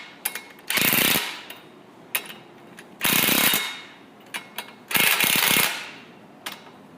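A ratchet wrench torquing the radius arm bushing bolts on an early Ford Bronco, heard as several loud bursts of rapid clicking separated by short pauses and lighter single ticks, close up with no talk.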